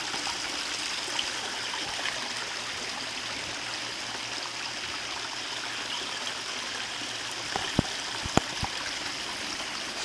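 Water trickles steadily along a garden pond stream in a faint, continuous babble. A couple of soft knocks sound near the end.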